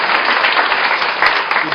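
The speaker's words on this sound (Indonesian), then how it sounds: "Dengan tepuk tangan bagi Tuhan." Church congregation applauding together in a sustained, dense burst of clapping that stays steady and loud throughout, with no clear speech over it.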